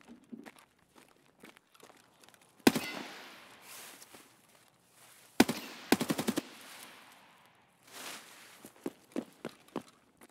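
Video game gunfire in a checkpoint siege battle crackles in a few sharp bursts, including one rapid automatic volley, between quieter stretches of faint footsteps and rustling.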